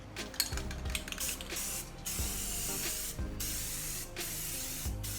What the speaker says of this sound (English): I'm gonna use this triple thick polyurethane clear semi-gloss to protect them